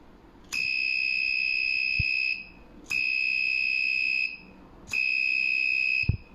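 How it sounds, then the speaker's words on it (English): Arduino flame sensor fire alarm buzzer sounding three loud, steady electronic tones, each about two seconds long with short gaps between them, with faint clicks underneath. "When there is fire, there will be we can hear the buzzer turning on and the LED turning on."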